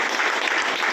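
Applause for a general manager's plan presentation rises as a brief, loud burst of many hands clapping together at a company gathering.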